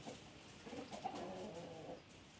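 Pigeons cooing in a coop, a faint low rolling coo lasting about a second against quiet background rustle.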